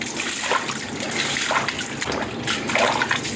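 Running water splashing and trickling as a fountain water filter is rinsed under a tap: a steady close wash of water with fluctuating splatter as the filter is moved through the stream.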